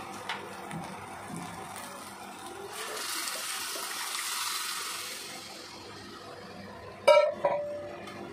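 Boiled kidney beans (rajma) poured into a pan of cooked spices, heard as a broad watery rush and sizzle that swells mid-clip and then fades, followed by a sharp clatter near the end.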